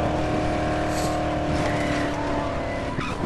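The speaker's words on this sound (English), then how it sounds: "coming back with a brand new truck" A truck engine drones steadily in the zombie game Dead Island, a constant close motor hum with no talking over it.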